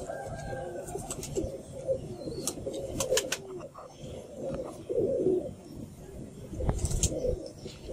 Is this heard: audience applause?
no